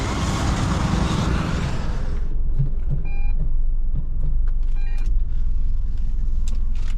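Nissan Magnite Turbo CVT car pulling away on a drive, a loud low road and engine rumble that settles into steady cabin noise, with faint clicks and ticks near the end.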